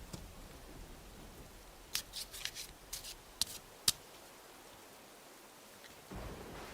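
A deck of tarot cards is shuffled up close in a quiet room: a string of crisp, papery clicks and flutters in two short flurries, then a soft rustle, with no voice.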